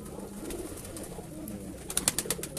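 Pigeons at a breeder's loft coo in low, soft throbbing murmurs, with a short burst of sharper fluttering or clapping wing sounds near the end, close by and with no talk.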